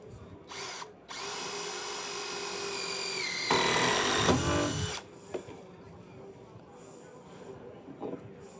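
A power drill drives a Trex decking screw, starting with a couple of short bursts and then whirring steadily for several seconds, rising in pitch before it stops, followed by quiet handling clicks.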